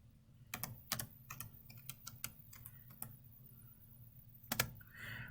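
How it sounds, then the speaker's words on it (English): Someone types a search on a computer keyboard: sharp, close keystrokes in short irregular bursts, with pauses between, over a quiet room hum. "I can type in a search."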